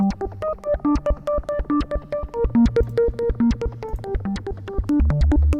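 Synth plugin preset playing a bouncy melodic line of short plucked notes over a pulsing bass, with a steady rhythmic pattern, loud and close.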